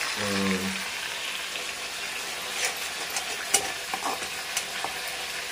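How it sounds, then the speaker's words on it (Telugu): Capsicum fries in hot oil with a soft, continuous sizzle and a few scraping clinks of a utensil against the pan, after a brief low hum at the start. "ఆ పక్క క్యాప్సికమ్ నూనెలో ఫ్రై అవుతుంది కొంచెం."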